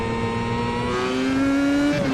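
A Formula i race car in the iRacing simulation of the Brazilian Grand Prix, its engine holding a steady, loud high tone that drops in pitch near the end as it shifts down into turn 4.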